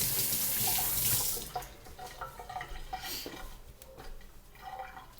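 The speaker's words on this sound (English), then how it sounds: "I'm just going to put that over here and wash my hands" Tap water rushes into a kitchen sink while hands are washed after handling ham bones, a loud steady stream at first that turns into softer, uneven splashing and dripping.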